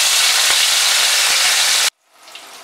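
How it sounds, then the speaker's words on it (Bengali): Rui fish pieces fry in hot mustard oil with a loud, close, steady sizzle that cuts off abruptly after about two seconds. A fainter sizzle returns after a short silence. "রুই মাছগুলোকে ভেজে নেব।"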